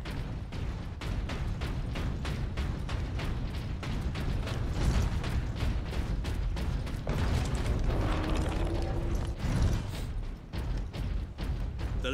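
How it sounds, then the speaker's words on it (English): Lift machinery in the Warhammer 40K Space Marine video game, a steady mechanical clanking and ratcheting with regular beats, rising into a louder grinding, creaking stretch midway, then settling back into the rhythmic mechanism. "I'm sending the lift up now"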